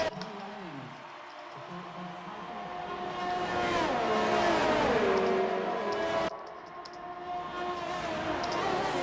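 A race car engine in the RSF1 racing game, lapping a track in Japan, drones steadily and moderately loud, its pitch climbing and dropping through gear changes and corners, with a brief shift in tone partway through.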